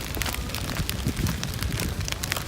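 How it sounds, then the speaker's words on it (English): Wind-driven rain blowing sideways across a mountain hiking trail, a dense continuous hiss of gusts and spattering drops buffeting close by, loud and unbroken with no voices. "the rain is blowing sideways right at me"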